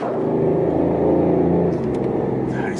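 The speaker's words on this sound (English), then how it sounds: "Such a 911 type of sound, isn't it? It's induction sound." A 2014 BMW i8 accelerating on a test drive, its engine induction giving a steady, loud, throaty rumble and rising drone heard from inside the car, with no talking.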